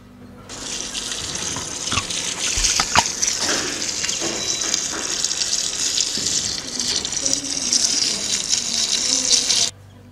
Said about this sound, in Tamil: அடுத்து 5 லிட்டர் மினரல் வாட்டர் ஆட் பண்ண போறோம்.